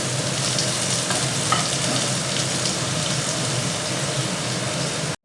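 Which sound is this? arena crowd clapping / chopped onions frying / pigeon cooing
chopped onions frying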